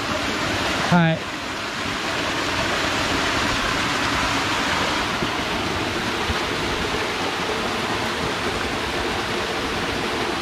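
A mountain stream and waterfall in Marutaki valley on Mount Kongo rush in a constant, dense broadband roar, close and steady, with a brief spoken word near the start.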